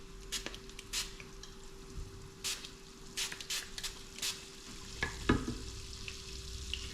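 Swordfish frying in a pan with a faint sizzle under repeated scraping and stirring clatter, a steady hum beneath and a sharper utensil knock near the end.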